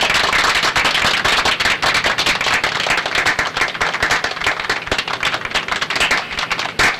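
A minister claps in a film scene, with dense, rapid overlapping handclaps that stay loud and steady, sharp and crackling like a burst of applause throughout, with no talking.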